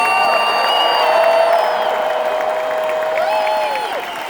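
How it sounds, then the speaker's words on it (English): An audience at a motivational event in Edmonton, Canada, claps and shouts together, loud cheering and whooping rising over steady applause, with sustained sung or yelled voices ringing through the crowd noise. "Clap your hands and shout if you believe we can"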